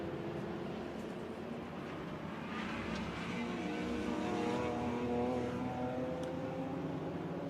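A Mini race car at the Brands Hatch circuit during a Classic Sports Car Club race, its engine droning steadily and swelling slightly as it passes at moderate distance over about seven seconds.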